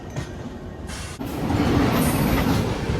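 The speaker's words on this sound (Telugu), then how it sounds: "చాలా ఆ సౌండ్ కానీ ఆ వైబ్ కానీ చాలా బాగుంటుంది డీజిల్ లోకోమోటివ్లో." Prasanthi Express is hauled by a diesel locomotive. A loud, steady rail rumble builds with clacking wheels and a high squeal, heard close and without talk.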